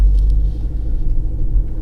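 A Toyota hybrid car's engine running after starting up to charge a low battery, a steady low rumble that stays close and even throughout, with no voices.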